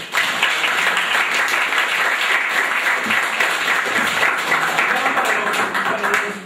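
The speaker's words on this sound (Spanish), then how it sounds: "compañeros, les pido palmas, por favor" Sustained applause from an audience at a roundtable on youth political movements, dense steady clapping throughout at an even loudness, with faint voices mixed in.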